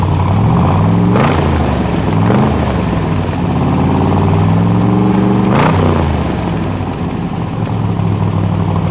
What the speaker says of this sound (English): Let's give it a rev.